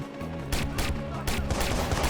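Rapid gunfire in the video game Watch Dogs, repeated bursts of shots over a steady loud low rumble, close and continuous with no pause.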